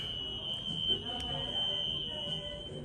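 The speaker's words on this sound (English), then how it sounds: "Fire alarm." A fire alarm sounds indoors as a steady high-pitched electronic tone, continuous and faint, with a person talking quietly and some low household noise underneath.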